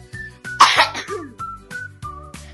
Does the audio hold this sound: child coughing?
yes